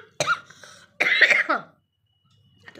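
Two harsh coughs from a woman running a fever with a badly hoarse throat, close to the mic, each a short rough burst with a raspy tail, separated by a brief pause.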